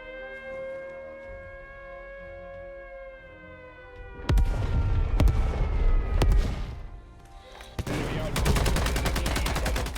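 World War II battle sounds from the game United 1944: a wailing air-raid siren gives way to loud bursts of gunfire, machine-gun fusillades and heavy explosion blasts, all close and intense with no speech.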